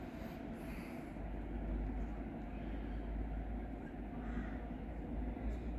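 A train pulled by an electric locomotive rumbles steadily at a Polish station, with a deep, continuous low roar and faint rattling, heard from close by with no voices.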